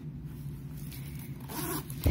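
A zip pocket on the back of a Fossil Fiona crossbody bag, pulled in a single steady zipping run, close and clear with a faint knock at the end.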